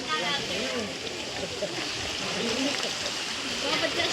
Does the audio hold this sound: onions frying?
no